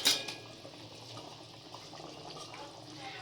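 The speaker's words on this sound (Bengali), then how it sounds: "আর একটু ফুটে তারপরে নামাবো।" Fish curry gravy bubbling in a covered pan, a steady soft simmer with faint liquid gurgles and a brief louder splash at the start, no voices.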